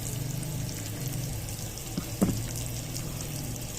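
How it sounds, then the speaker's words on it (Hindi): Onions frying in a pan for a dahi bhindi dish, a steady low sizzle running throughout with a couple of brief louder crackles near the middle, no talking. "जब तक हमारे प्याज फ्राई होते हैं"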